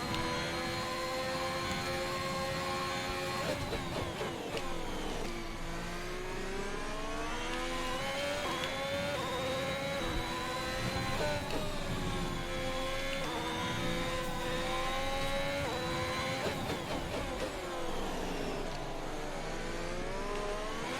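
Formula 1 car engines in the F1 2021 racing video game, Bahrain Grand Prix, high-pitched whine rising and falling through gear changes, loud and continuous with no talking.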